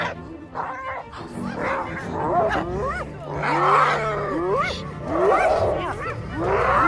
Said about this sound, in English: when lions attack them, they cry in terror.